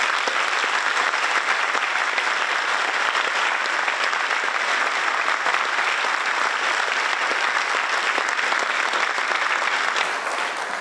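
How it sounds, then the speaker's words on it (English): Lecture audience applauding a professor introduced to speak on ancient DNA: a dense, even wash of many hands clapping, loud and sustained throughout, tapering slightly at the very end. "Please join me in a warm round of applause for Jennifer Raff."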